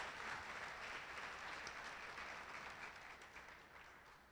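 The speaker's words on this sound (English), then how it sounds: "Let's give her a round of applause in her absence." Steady round of audience applause at a high school awards program, a broad wash of many hands clapping at a fairly distant, even level that slowly tapers off.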